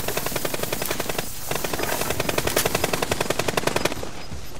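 Automatic gunfire in a Call of Duty: Modern Warfare multiplayer match, a rapid, steady rattle of shots with a brief lull near the middle, loud and continuous, with no talk.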